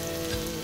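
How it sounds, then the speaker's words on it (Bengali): Chopped ginger sizzles in hot oil, making a brief, dense crackling fry that is close and fairly loud, with no voices. "এবার তেলের মধ্যে একটু আদা কুচি দিয়ে দেবো"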